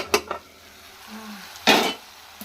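Potatoes for a spiced potato masala fry in a pan, heard as a soft background sizzle broken by a couple of short utensil scrapes and a louder burst of stirring, with no voices.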